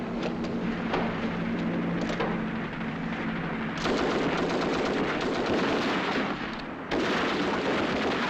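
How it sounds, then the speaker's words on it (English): Mortar and gunfire in a 1944 British Second World War film battle scene, with dense, continuous rumbling fire and blasts that swell louder in bursts and stay loud throughout. "Mortar."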